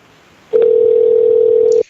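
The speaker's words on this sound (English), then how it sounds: "we have to call Bill, so we're calling him right now. Phone's ringing" A telephone ringback tone sounds while a radio show calls a guest: one steady, continuous tone of about a second and a half, heard alone, with no talk.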